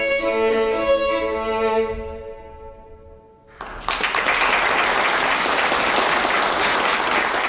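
Audience applause at a violin recital in a gold-gilt auditorium, from a radio drama: sustained violin notes fade out, then loud, dense clapping bursts in and continues steadily to the end.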